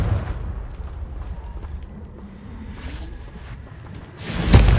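A Confringo fire spell in a video game erupts in a single loud, bursting blast at the end, preceded by a low rumbling ambience.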